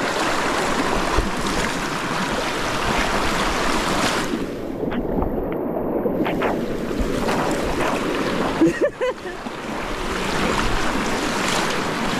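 A continuous heavy rush of a strong river current and wind at a campsite crossing fills the whole stretch, loud and close, with a brief dip and some knocks near the end.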